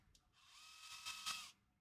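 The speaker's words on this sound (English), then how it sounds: "I have to drill this hole a little bit too high" A small power drill whirs through a hole for about a second and a half, a steady high-pitched motor whine that dips and surges slightly under load, then stops; fairly quiet, with no talking.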